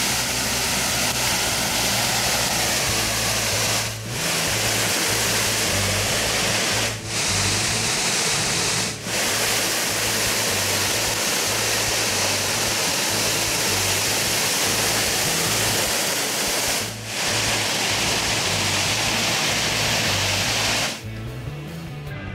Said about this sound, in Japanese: 滝の音が聞こえてきました。